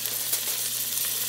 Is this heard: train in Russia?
no